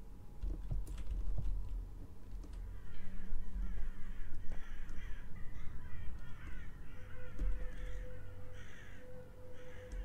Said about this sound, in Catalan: Ara els ocells no es veuen, només se senten.